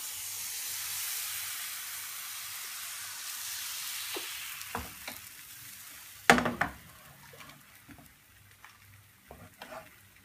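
Savory crêpe batter poured into a hot, oil-greased pan, giving a steady soft sizzle with light stirring and scraping clicks, a sharper burst of frying near the middle, no talking.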